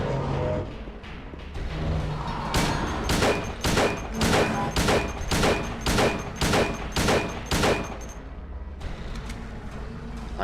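James fires his gun in Silent Hill 2, a rapid burst of about a dozen loud, evenly spaced shots, each one sharp and booming, between quieter stretches of game ambience.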